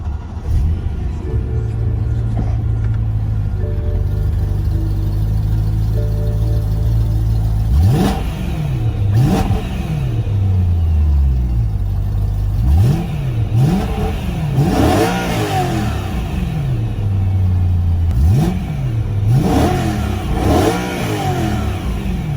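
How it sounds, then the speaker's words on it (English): A 2012 BMW E92 M3 starts up and settles into a steady idle, then gets a series of sharp throttle blips that rise and fall repeatedly, loud and close, with no talk over it. "Hopping in here, starting up the car."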